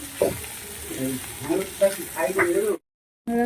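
Ginger fries with pointed gourd and yardlong beans in a pan, giving a close crackling sizzle and stirring scrapes under a faint voice, then cutting out briefly before the sizzle returns.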